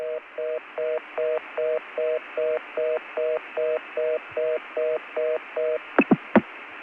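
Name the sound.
New York CCSA access number hanging up on telephone line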